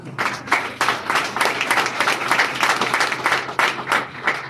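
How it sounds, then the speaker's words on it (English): Applause fills a political party event as the audience honors the people who carried the campaign to the finish line, a dense steady clapping that swells and dips in waves, with a faint hum underneath and no talking. "So you need to give yourselves another round of applause"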